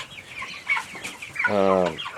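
Rhode Island Red hens and Cornish cross broilers cluck and murmur inside a chicken house, with one louder, drawn-out squawk standing out near the end amid the flock's chatter.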